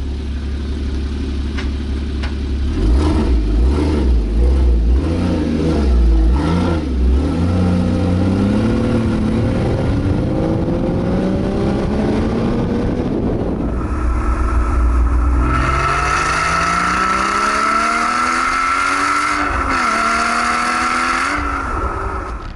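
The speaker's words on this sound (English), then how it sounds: "love listening to the exhaust" A car engine revs repeatedly, pitch climbing and falling through several throttle blips, then holds a high, loud exhaust note before easing back.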